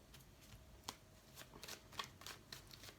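A deck of tarot cards is shuffled and drawn by hand, giving quiet, close riffling snaps and slides in a series of short, irregular bursts with no talking.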